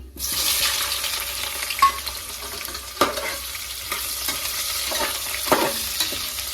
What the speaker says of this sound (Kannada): ಸೊ ಇವಾಗ ಇದ್ರೊಳಗಡೆ ನಾನು ಈರುಳ್ಳಿನ ಹಾಕೊಳ್ತೀನಿ.